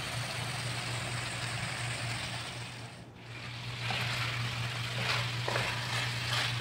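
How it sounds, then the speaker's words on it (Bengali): Small washed pieces being stir-fried (kosha) in hot oil in a pan: a steady, close sizzle with a constant low hum beneath and occasional stirring scrapes. "তো এই যে খুব সুন্দর করে কষিয়ে নিচ্ছি।"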